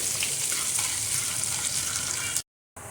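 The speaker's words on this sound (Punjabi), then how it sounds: "ਦੋ ਤਿੰਨ ਮਿੰਟ ਵਾਸਤੇ ਆਪਾਂ ਅਦਰਕ ਲਸਣ ਨੂੰ ਭੁੰਨਾਂਗੇ" Finely chopped ginger and garlic fry in a pan for a mixed dal, giving a loud, steady sizzle throughout that cuts off abruptly for a moment near the end.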